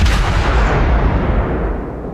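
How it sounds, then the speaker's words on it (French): Guns of the Shiratsuyu destroyer firing in the naval game World of Warships: a loud, heavy boom that rolls out into a long, fading rumble with no voices. "le bruit des canons du Shirasu sont assez originaux"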